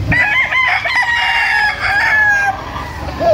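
Stag roosters crow loudly and close by, several overlapping calls in a steady chorus, tethered at a yard in North Caloocan.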